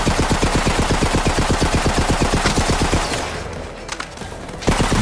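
Rapid automatic gunfire in Borderlands 3, a loud, steady burst of evenly spaced shots for about three seconds, then a lull of softer in-game sounds and one final blast.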